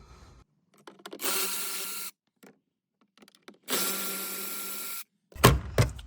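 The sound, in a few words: undoing T25 Torx screws on Audi TT dash panel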